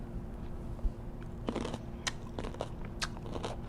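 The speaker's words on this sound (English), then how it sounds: "I'm just gonna give a little try and let you guys hear how crunchy it is." Someone bites into crunchy, well-fermented carrot and cucumber kimchi up close, a few crisp crunches and chewing snaps scattered over a few seconds against a quiet room.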